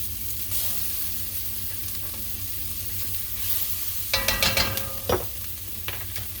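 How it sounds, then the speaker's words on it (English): Ground beef sizzles steadily in a pan, then a tablespoon of tomato paste goes in, bringing a burst of louder crackling and spatter before the frying settles again. "After a minute, go ahead and add in your tablespoon of tomato paste."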